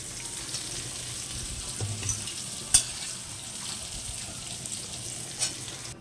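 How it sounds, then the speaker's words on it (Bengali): Mustard seeds crackle and sizzle in hot oil, a soft, continuous hiss with occasional sharper pops, while cooking shukto. "তেলের মধ্যে আমি সর্ষে ফোড়ন দিচ্ছি।"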